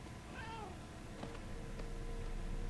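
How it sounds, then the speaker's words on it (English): A cat meows in the video game Murdered: Soul Suspect with a single short, faint, rising-and-falling mew early on, set against a quiet, steady background ambience. "Hey, kitty. I love cats."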